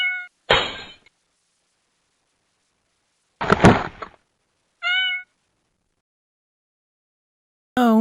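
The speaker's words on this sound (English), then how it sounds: "This cat's frightened of water." A frightened cat being given a shower meows loudly several times in short separated cries, mixed with a couple of harsh splashing or clattering bursts and long silent gaps between them.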